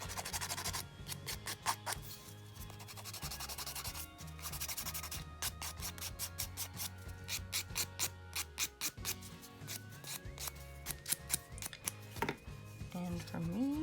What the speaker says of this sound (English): So again, just buffing away.